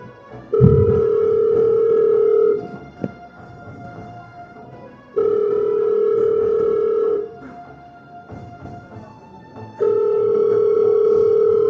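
Telephone ringing loudly and close by in three long electronic rings of about two seconds each, separated by short pauses, with no one speaking.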